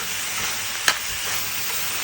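Green beans stir-frying in a pan give a steady soft sizzle, with one sharp scrape of a spatula partway through; no voices.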